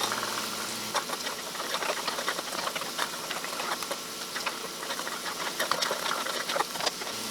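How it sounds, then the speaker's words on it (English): Chinese chili oil sizzling and crackling in a pan after the heat is switched off, a steady dense hiss with scattered pops and no talking over it. "This stuff is sizzling away, and it'll keep sizzling as long as I leave it on here."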